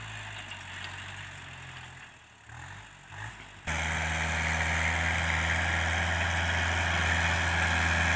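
An M5000 farm tractor engine runs steadily with a deep, throbbing idle, close and loud, jumping to a fuller, louder roar partway through and holding there, with no voices.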